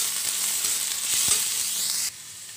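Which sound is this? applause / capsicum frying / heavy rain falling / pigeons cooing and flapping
capsicum frying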